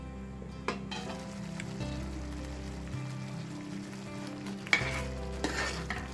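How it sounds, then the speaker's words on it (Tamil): Paneer butter masala gravy simmers and bubbles in a pan, a steady soft sizzle and popping with a few sharper spits, close and fairly quiet, with no voices. "குழம்பு கொதிக்க ஆரம்பித்ததும் எண்ணெய் தெளிகிறது வரைக்கும் இந்த குழம்பு மூடி வச்சிடலாம்."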